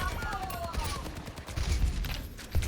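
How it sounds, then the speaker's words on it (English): Rapid gunfire in Overwatch 2 during a Sojourn match, with dense overlapping shots and bursts that run continuously and loud, with game effects layered over the shooting. "I'm shooting at the Ashe at least a little bit"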